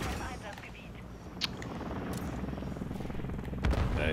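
A helicopter hovers in the video game Call of Duty Modern Warfare 3, a continuous rotor drone mixed with bursts of gunfire and sharp impacts, with players talking over it.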